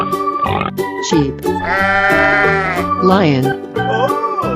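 A cartoon sheep gives a long, wavering bleat in the middle, loud and close, set among other cartoon animal noises and music with a voice-like character.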